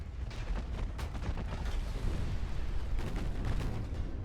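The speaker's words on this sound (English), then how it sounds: "Oh, ammo detonation" Ammo detonating aboard a warship in the naval video game Ultimate Admiral: Dreadnoughts, heard as a heavy, rumbling explosion with repeated booming bursts over several seconds, loud and dense with no talk.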